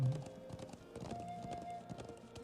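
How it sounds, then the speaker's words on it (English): Hooves of a white horse clip-clop in the Trails of Cold Steel video game, a brisk, steady run of hoofbeats with game music beneath. "I'm on a horsey. A white horsey."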